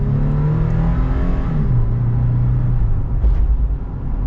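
A Toyota 4Runner TRD Pro with a 5-speed automatic transmission accelerates hard, its engine droning steadily close by with a low pitch that climbs and then settles as it shifts up, with road noise continuing throughout.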